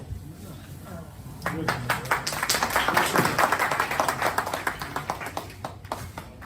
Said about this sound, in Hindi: तालियों में मजा नहीं आया।